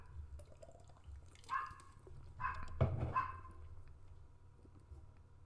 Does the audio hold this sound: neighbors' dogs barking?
yes